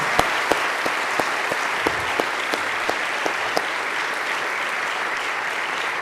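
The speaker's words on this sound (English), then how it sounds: "I'd like to take a moment to clap for the parents who have instilled the love of God in these kids'" An audience applauds steadily for the graduates' parents at a 2017 graduation ceremony, a dense mid-distance clapping wash with a few sharp individual claps standing out, filling the whole span with no talk.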